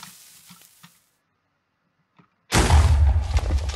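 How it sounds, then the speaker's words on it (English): In a modded video game, a firecracker's fuse hisses and sizzles loudly, a harsh continuous crackling that starts abruptly after a quiet pause with faint earlier sounds. "Okay, firecracker."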